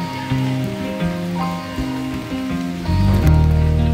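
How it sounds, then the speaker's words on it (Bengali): Light drizzling rain falls outdoors at Taki as a steady, close patter of raindrops, with some low humming tones underneath that grow louder toward the end. "ঝিরঝির করে বৃষ্টি পড়ছে।"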